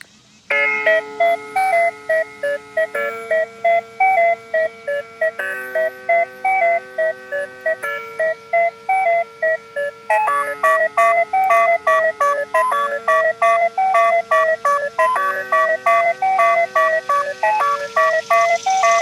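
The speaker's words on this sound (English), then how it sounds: "here's my ringtone." A bright electronic melody rings out in a repeating chime-like loop, loud and close, cycling through the same tinkling phrase many times.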